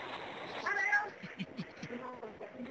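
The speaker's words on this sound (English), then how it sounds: "I know you have cats there." Cats meowing over a phone connection, a few short cries in quick succession with people talking underneath.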